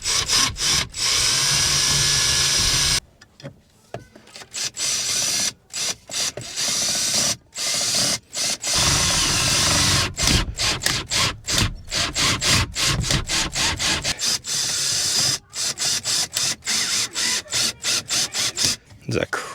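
Screws driven by a power driver back into pilot holes while mounting a Bulletpoint phone mount in a car, giving repeated loud whirring bursts separated by short pauses, close up, with rubbing and creaking between runs.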